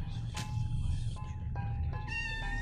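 A cat meows several times in the video game OFF, with short tonal calls rising over a steady low background hum, fairly close and moderately loud.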